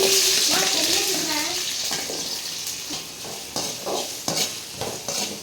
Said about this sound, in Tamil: இப்போது வெங்காயமும் பச்சை மிளகாயும் சேர்த்துக்கிறேன்.